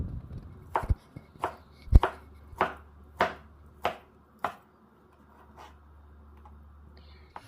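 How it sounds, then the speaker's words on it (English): Knife chopping two slices of ham into cubes on a cutting board, eight crisp, evenly spaced knocks up close, then quiet with a low background hum. "So we're going to cut it into cubes."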